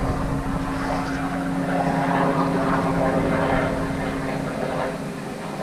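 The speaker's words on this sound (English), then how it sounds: "And there's a helicopter." An aircraft flying low overhead gives a loud, steady engine drone with a rhythmic rotor-like beat, holding for several seconds before fading slightly at the end, with no talk.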